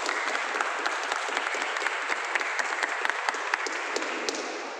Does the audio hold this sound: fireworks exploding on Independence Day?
no